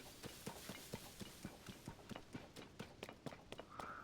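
A horse's hooves clip-clop at a steady trot in Zelda: Tears of the Kingdom, a quiet run of evenly spaced thuds with a short chime near the end.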